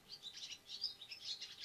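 A small bird chirps in quick repeated bursts of high tweets, fairly faint and outdoors, with pauses between groups of notes and no talking.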